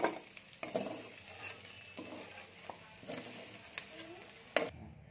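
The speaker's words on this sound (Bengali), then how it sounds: "দেখুন বন্ধুরা, আলুটা নেড়ে নিচ্ছি" Potatoes fry in a hot pan in a village kitchen while a spatula stirs them. Faint sizzling sits under soft scraping clicks, with a sharper knock near the end before it goes quiet.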